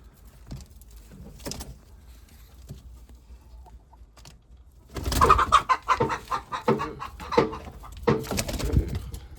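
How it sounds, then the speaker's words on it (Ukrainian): Chickens cluck and squawk in bursts, quiet at first and then a louder, busy flurry of fowl calls close by. "Тут ще кури по сусідству."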